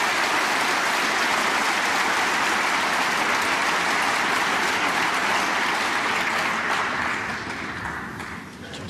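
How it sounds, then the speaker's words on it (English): Dense, sustained applause from a snooker crowd for Graham Dott, a broad wash of many hands clapping close and loud, tapering off slightly toward the end. "they were applauding Graham Dott"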